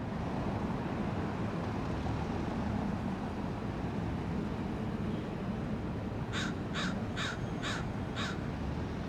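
A run of about five loud, evenly spaced seagull caws rings out over a steady wash of wind and distant rumble near Seattle's grain terminal by the railway.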